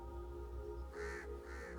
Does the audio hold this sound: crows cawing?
yes